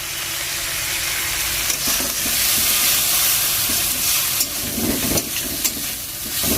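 Turmeric powder being stirred into food frying in a pan for egg dalna, a steady close sizzle with scraping spoon strokes and soft clinks, no voices.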